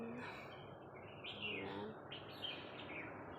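Birds chirping over a vegetable garden with potato plants, a series of light, high tweets and calls repeating against faint outdoor background, fairly soft; a voice speaks briefly.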